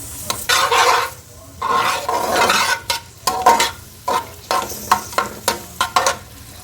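Chopped onion sizzling in ghee in a pan while a metal spoon stirs it, loud close scraping strokes repeating in a quick, uneven rhythm over a continuous frying hiss.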